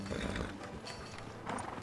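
A horse in the Red Dead Redemption 2 video game is tied up, with soft hoof clops and faint snorting, low in level and close by.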